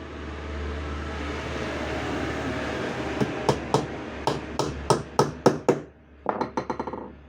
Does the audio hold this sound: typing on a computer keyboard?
no